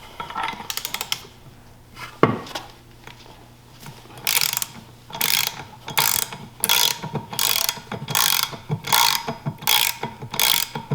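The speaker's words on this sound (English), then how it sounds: "we're using a 1 1/16 on a 1/2 inch breaker for our flywheel bolt" A ratcheting 1/2-inch drive breaker bar with a 1-1/16 socket works the flywheel bolt on a Seadoo 787 engine, giving rapid, evenly repeated mechanical clicking bursts up close, with a sharp clank early on and no talking.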